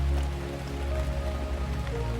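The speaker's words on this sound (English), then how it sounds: "he listened to the steady rain, a blanket of sound over the roof, trees, ground, and him" Steady rain falls on a roof, a dense, even wash of drops that stays constant throughout with no voices.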